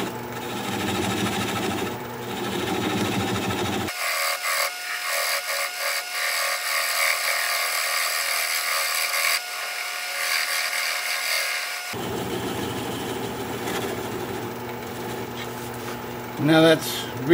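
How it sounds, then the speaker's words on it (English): A log bowl spins on a wood lathe at about 400 RPM, and a bowl gouge cuts it with a steady whir and hum. A voice talks over parts of the turning. "I'm going to change to a 3/8 inch sweatback bowl gouge so that I can get in there closer."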